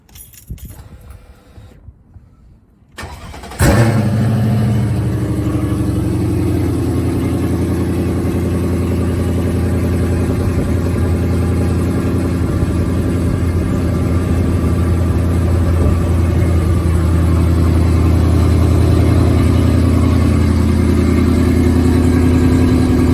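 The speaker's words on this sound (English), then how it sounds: "So I'm just gonna do a start up." A Mercedes W211 E55 AMG engine cranks and fires after a few seconds of quiet handling noise, then settles into a loud, steady idle with a deep, constant rumble.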